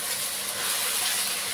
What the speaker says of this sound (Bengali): রসুন পেঁয়াজ বাটাটা দিয়ে এবার একটু কষিয়ে নেবো, মানে বেশি ভেজে ভেজে নেবো